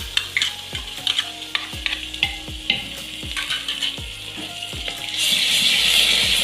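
Ground green chilies and ginger garlic paste sizzle in a pan for a mixed vegetable makhni achari dish, with a utensil scraping and stirring in regular strokes, then a louder steady hiss of frying near the end.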